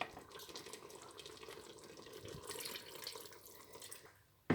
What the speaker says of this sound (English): I'm going to add some of my pepper water